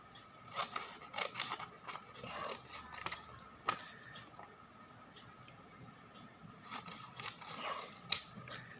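Scissors snipping through paper while trimming a school craft sheet, a series of close, crisp cuts and rustles spaced irregularly, quiet and with no talking.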